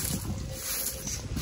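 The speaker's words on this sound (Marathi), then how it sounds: "इथं पाण्यातली स्कूटर रायडिंगचं आहे" A water scooter ride on a lake at Mahabaleshwar, carrying a steady, continuous rush of engine and water noise with wind buffeting the microphone, loud and close throughout, with no talking.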